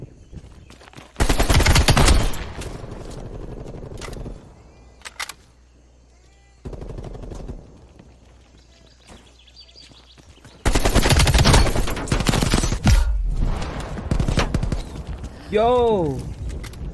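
Bursts of rapid AK rifle fire crack out in Call of Duty Cold War, loud sustained volleys separated by quieter gaps, with a meow-like sound and talk mixed in.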